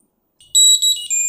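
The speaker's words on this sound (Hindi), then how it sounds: "ये ऑटोमेटिक बीप करना शुरू कर दिया था बहुत तेज़" Jio Tag Air Bluetooth tracker emitting a loud, high-pitched electronic beep tone right after pairing, starting abruptly and sounding in repeated close bursts with no talk over it.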